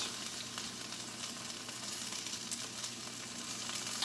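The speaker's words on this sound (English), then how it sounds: "I'm just simply going to mix it around" A sauce with capers stirred in a pan, a dense, steady sizzle and crackle with faint scraping throughout, close and fairly quiet, with no voices.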